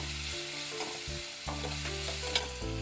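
Onion is added to browned garlic and sautéed in a pan, a close, steady sizzle with repeated stirring scrapes and a sharp clink near the end, no voices present.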